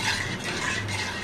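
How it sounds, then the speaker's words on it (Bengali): A spoon stirs milk and sugar in a pan for a milk pudding, making a short, close run of soft scraping and clinking with no voices. "এটারে ভালো করে নাড়াচাড়া দিব,"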